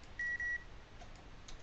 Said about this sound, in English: I don't know what that beeping is.